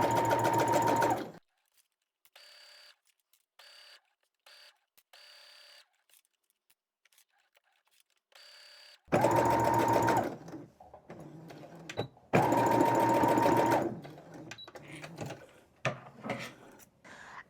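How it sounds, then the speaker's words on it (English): A sewing machine stitches a fabric bowl cozy at a quarter-inch seam, running in loud mechanical bursts, first briefly, then with faint clicks and pauses, then two longer runs with a backstitch. "I'm sewing at a 1/4 inch seam allowance for this part of the project."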